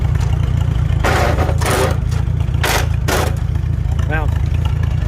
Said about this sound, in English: I got to idle it down to shift gears, as you hear. Idle it all the way down.